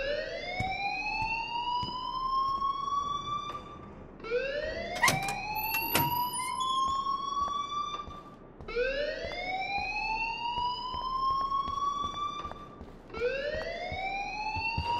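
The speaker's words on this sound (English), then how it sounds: "please turn off that alarm" A fire alarm in Life is Strange Remastered wails in repeated rising whoops, four sweeping cycles over a constant background hum, loud and unbroken by talk.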